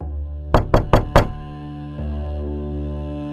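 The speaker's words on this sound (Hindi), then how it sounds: "दरवाजा जोर से खटखटाया गया।" Four loud, heavy knocks on a wooden house door at night, evenly spaced and close, followed by a low droning background tone.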